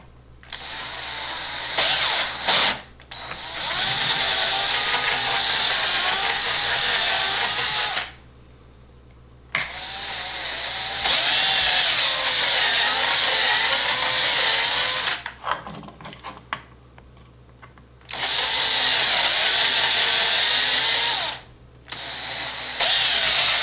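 Small drill boring into the rivet post of a 1964 Continental Hot Wheels toy car, a high whirring that runs in several bursts of a few seconds each, separated by short pauses.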